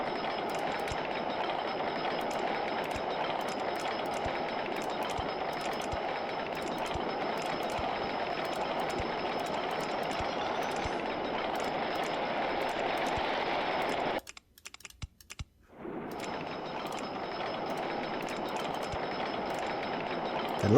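Roller coaster trains run in the OpenRCT2 park-building game with a steady, dense rumbling clatter that holds throughout, broken by one short gap near the end before resuming.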